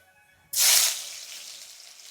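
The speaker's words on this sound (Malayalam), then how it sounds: "കടുക് ഇട്ട് കൊടുത്ത് കുറച്ച് ഇഞ്ചിയും വെളുത്തുള്ളിയും ഇട്ട് കൊടുക്കാം" Mustard seeds, ginger and garlic hit hot oil for a simple tomato curry, bursting into a sudden loud sizzle that quickly settles into a steady, fading hiss, with no voices.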